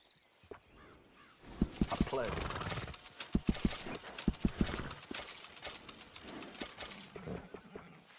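Horse hooves clip-clop in Red Dead Redemption 2 in an uneven sequence of sharp knocks over a mechanical, creaking background, loudest in the middle.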